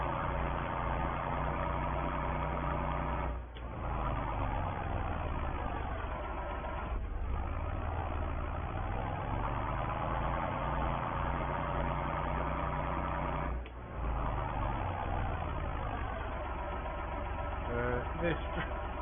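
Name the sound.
135 horsepower tractor engine idling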